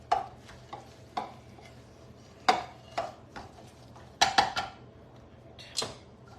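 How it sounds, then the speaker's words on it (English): Burger meat being mixed by hand in a bowl, heard as a quiet run of separate squelching slaps and dull knocks spread unevenly, with near silence in between. "Just mix it up a little bit. This is probably where I'll get my hands all mushy."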